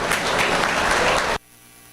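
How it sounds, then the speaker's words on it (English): An audience at a meat goat show applauds for a doe. The clapping is dense and close, then cuts off abruptly after about a second and a half, leaving a quiet hum. "Let's give her a round of applause."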